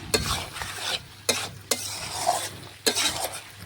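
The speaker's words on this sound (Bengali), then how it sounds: "ভালোভাবে নাড়াচাড়া করে আলুগুলো মটনের সাথে মিশিয়ে নিলাম" Potatoes being stirred into mutton curry in a pan: a spoon scrapes the pan several times in sharp, irregular strokes over a steady close sizzle, with no talking.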